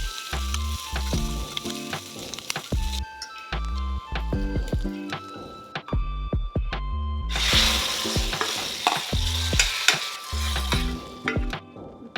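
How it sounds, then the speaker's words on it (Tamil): Onions, curry leaves and fennel frying as a tempering for kulambu, a close crackling sizzle with repeated stirring clinks and scrapes, the frying hiss surging louder partway through. "கருவேப்பிலை வெங்காயம் நல்லா டெண்டரான உடனே உடுத்து குழம்புல ஊற்றிக்கலாம்"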